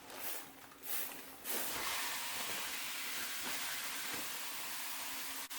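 A burger patty sizzles on an oiled griddle pan, a steady loud hiss that swells after a second or so and carries on unbroken.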